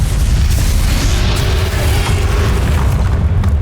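In the video game Hogwarts Legacy, a Bombarda spell blasts with a loud, booming explosion whose heavy rumble sustains and slowly fades across the few seconds, with no speech over it.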